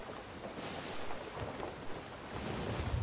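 Wind rushes over a sailing ship in Sea of Thieves, a steady, moderately loud gusting roar mixed with the wash of waves, swelling and easing slightly with no voices.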